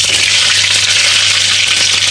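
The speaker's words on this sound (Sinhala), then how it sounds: "තෙල් එක කර වෙලා තියෙන මේකට අපි අබෑට ටිකක් දාගන්න." Mustard seeds hit hot oil in a pan during Sri Lankan village-style cooking, giving a loud, steady, close sizzle that runs unbroken on its own over a low constant hum.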